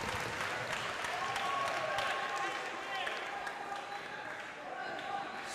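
A wrestling crowd cheers and applauds in a broad, steady roar of clapping that fills the arena, with a commentator talking over it.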